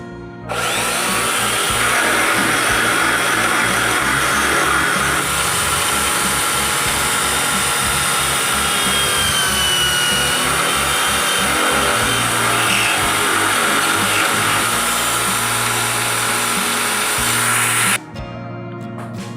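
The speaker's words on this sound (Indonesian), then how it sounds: "Selanjutnya kita bor sambil kita rapikan ya untuk lubang jarinya ini. Lanjut kita bor." A power drill whines steadily at close range for most of the clip, boring into a coconut shell ring with a rough buzzing texture, then cuts off near the end.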